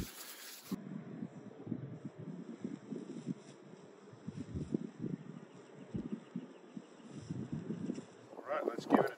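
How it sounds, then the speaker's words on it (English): Outdoor wind gusts buffet the microphone with a low rumbling roar at a hobo stove cooking site where breakfast is cooked in a cast iron skillet, while someone talks nearby. "As usual, we have wind to deal with."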